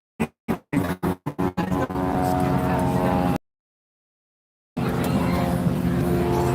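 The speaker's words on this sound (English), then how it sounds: "So you'd be very familiar with that Continental engine sound" A Cessna 172 with a Continental engine at an air show. The engine roars steadily and loud after a few sharp staccato bursts, then cuts off briefly before the drone resumes.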